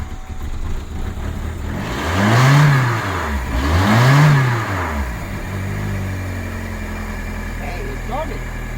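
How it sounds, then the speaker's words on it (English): An old car engine starts up after trouble, cranking through two surging revs before settling into a steady idle. The engine sits close and loud, and there is talk over it. "Hey, it's started. It's idling."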